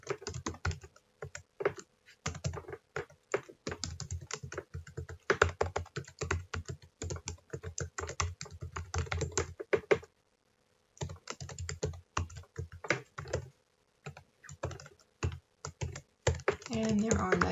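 Someone types steadily on a computer keyboard while filling in a Word 2019 document, with rapid irregular clicks in bursts and one brief pause, close and clear, with no talk over them.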